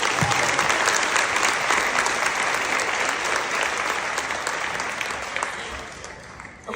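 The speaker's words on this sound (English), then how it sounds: "one more round of applause for all of our speakers" An audience at a live storytelling event applauds the speakers with dense, steady clapping that continues for several seconds and gradually tapers off, near and full, with a murmur of voices underneath.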